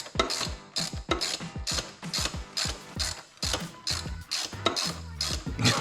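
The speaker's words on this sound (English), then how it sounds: "Stay tuned while we unscrew this 5-foot-long bolt here." Loud, rhythmic ratcheting clicks come in quick bursts, up close, as a long bolt is backed out of a 5.7 Hemi engine during teardown, with no talk.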